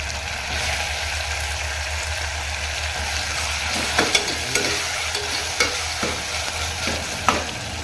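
Tomatoes with green chillies and curry leaves sizzle steadily in a hot pan while a spoon scrapes and stirs with several distinct clinks, close up and without speech.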